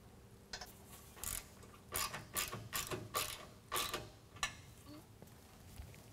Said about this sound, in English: now go ahead and snug that up with a half inch.